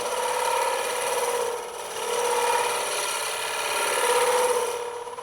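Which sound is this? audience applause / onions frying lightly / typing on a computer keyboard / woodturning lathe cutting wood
woodturning lathe cutting wood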